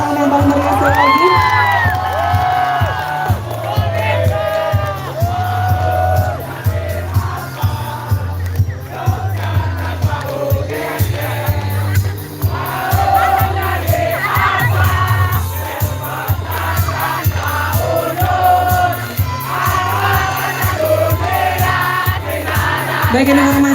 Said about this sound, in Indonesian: Boleh kita beri tepuk tangan yang paling meriah sekali lagi.